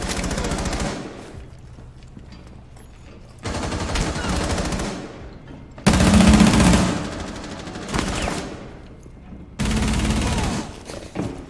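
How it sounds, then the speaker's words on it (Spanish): Sustained bursts of automatic gunfire from Rainbow Six Siege on PS4 rattle in several long, dense volleys separated by short pauses, loud and close, with a player talking faintly underneath. "¿Vieron cuántos disparos le solté, confis?"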